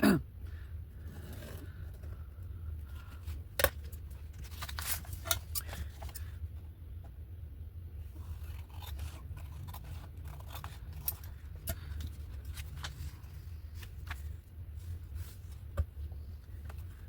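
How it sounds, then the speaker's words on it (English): Scissors trimming a paper collage, a sparse series of crisp snips and paper rustles scattered over a low steady background hum, close but faint; no speech. "Maybe I'll trim it off on this side where there's less roses."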